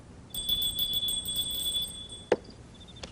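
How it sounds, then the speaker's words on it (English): A small handbell is rung indoors, giving a thin, high, sustained ringing tone that fades, followed by a single sharp knock. "rings the bell if she needs something"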